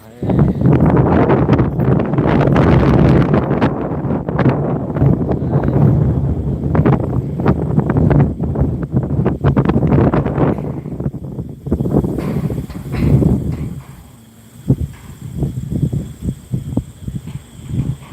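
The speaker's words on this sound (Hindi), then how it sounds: "बहुत तेज हवा है।" Strong wind buffets the microphone with loud, continuous rumbling gusts throughout, easing slightly toward the end, with no voice heard.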